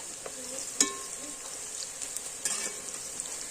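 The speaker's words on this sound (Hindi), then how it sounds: "बिल्कुल हमें इसी तरीके से प्याज फ्राई करने हैं।" Onions fry in a pan with a bay leaf, giving a steady, quiet sizzle throughout, with a few sharp clicks and stirring scrapes of a utensil against the pan.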